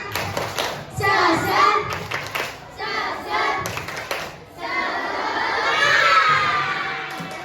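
Schoolchildren in a community outreach class chant and clap the Indonesian tepuk semangat rhythm together, loud, close group voices with rhythmic claps, ending in a sustained cheer.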